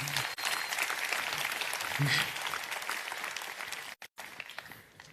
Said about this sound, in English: If everybody could please join me in giving him a round of applause.